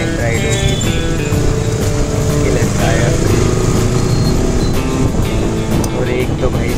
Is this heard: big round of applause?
no